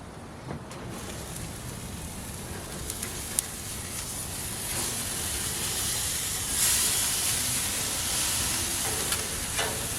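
Flat iron steak sizzling on a hot grill, with a steady, bright crackling hiss that holds for the whole stretch, close, with a few small pops and no talk.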